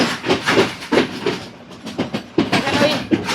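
A train runs on the Batticaloa line in Sri Lanka, giving a steady rumbling clatter with repeated clickety-clack wheel beats and a hissy wash, heard from on board with no speech.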